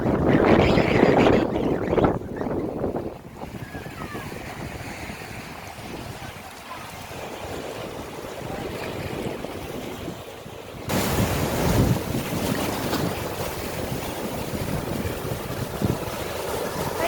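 Sea waves washing on a rocky shore at Burgos, Ilocos Norte, with strong gusting wind buffeting the microphone, a continuous roar that drops off for a while and then surges back louder.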